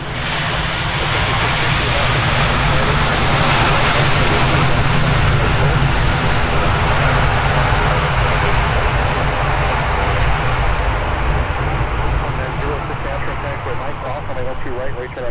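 A large airliner arriving from Amsterdam lands at Minneapolis airport with a loud, continuous engine roar that swells and slowly fades as it rolls out, with speech talking over it throughout.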